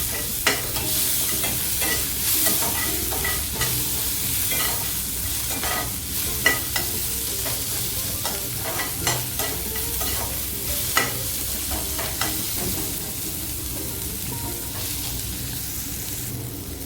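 Tomato and onion sauté loudly in a pan for a snake gourd poriyal, a dense continuous sizzle broken by frequent stirring clatters and scrapes of the spoon, close and steady throughout.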